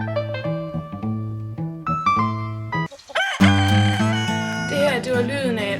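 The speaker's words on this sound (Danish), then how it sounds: "Hanen den galede, når solen stod op" A rooster crows at sunrise, one loud drawn-out call rising in the second half after a steady tonal backing.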